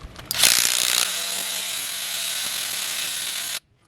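A ratchet wrench turns a 15/16 socket with a loud, rapid, continuous clicking close by. The clicking runs for about three seconds and then cuts off abruptly.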